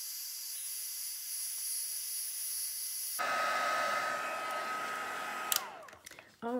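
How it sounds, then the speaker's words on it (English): A heat tool blows hot air in a steady, loud whoosh while drying stamped paper, its pitch shifting partway through, then cutting out near the end with a few clicks. "Let me heat this with a heat tool"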